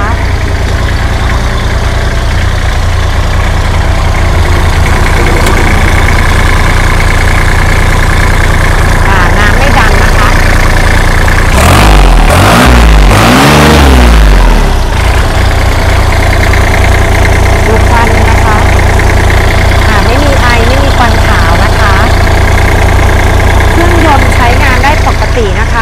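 Kubota L3408DT three-cylinder diesel tractor engine running steadily at close range, a loud continuous low rumble with a brief surge in the middle; a voice talks over it throughout.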